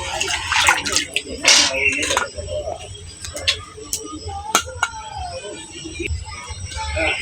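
Raw green bananas being washed by hand in a basin of water, with sloshing and splashing bursts, scattered drips and clatters, close and moderately loud in a home kitchen.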